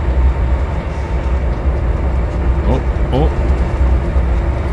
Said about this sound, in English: I'm trying to drive two trains at once.